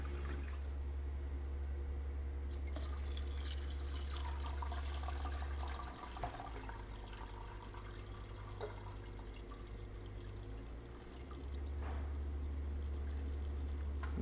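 Chicken bone broth strains steadily on a farm kitchen setup, a continuous pouring, trickling liquid with a low steady hum beneath, running unbroken for the whole stretch without any voices.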